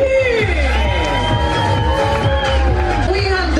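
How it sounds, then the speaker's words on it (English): Passengers at an evening deck party aboard the cruise ship MSC Armonia cheer and whoop loudly for the entertainment staff, with a dense crowd roar, rising shouts and babbling voices filling the space throughout. "once again, please a big round of applause for the MSC Cruise Staff Entertainment"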